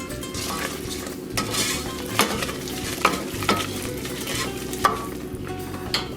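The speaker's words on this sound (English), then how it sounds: "Just give this a stir." A spoon stirs Mars bars melting in a pan, with soft scraping and gentle sizzle under occasional sharp clinks against the metal, close and steady without talk.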